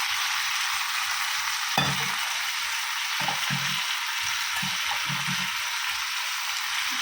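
Spices sizzle and fry steadily in a pan after a splash of water joins chopped green chilli and chilli powder, a constant hiss broken by a few soft stirring knocks.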